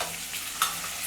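Vegetables go into a hot frying pan for a South Indian vegetarian festival meal, with a continuous bright sizzle and one sharp metallic clink of a spoon against the pan partway through.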